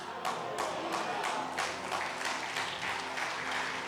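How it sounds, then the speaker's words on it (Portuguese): A church congregation claps softly and unevenly at a service, a fairly quiet patter of hands with slight surges in rhythm and no talking over it. "vocês aplaudem baixinho"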